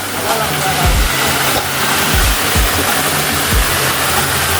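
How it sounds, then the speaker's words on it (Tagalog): A waterfall roars as a loud, continuous broadband rush close by, with a few low thumps mixed in and talking over it. "finally andito na kami sa falls area"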